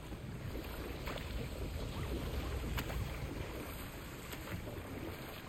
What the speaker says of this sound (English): the wheel's moving and the gate's coming down